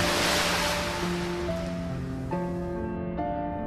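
Sea surf washes and roars loudly at a quay's edge in an animated railway story after a small tank engine plunges in, with steady tones sounding over the water and fading toward the end.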